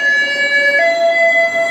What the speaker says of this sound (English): Give us a second, let this ambulance run by.